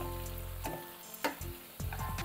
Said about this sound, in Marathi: मस्तपैकी असे छान परतून घेऊ.